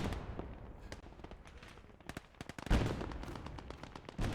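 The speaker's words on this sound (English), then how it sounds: "That's actually 28 mil anti-tank gun." Gunfire in the video game Gates of Hell during a PvP battle with a 28 mm anti-tank gun, a rapid series of sharp cracks followed by a heavier boom and rumbling battle noise.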